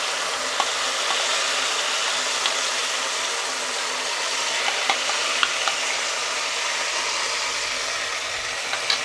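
Banana halwa mixture of mashed nendran banana frying in melted ghee in a pan over medium flame, stirred steadily, giving a continuous soft sizzle with faint scraping clicks and no talk.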